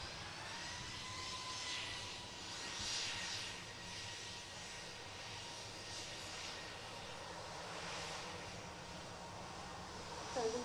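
A Boeing 737-800 airliner taxis in at Manchester Airport, its jet engines giving a steady, distant whine and rumble that holds evenly throughout without a break.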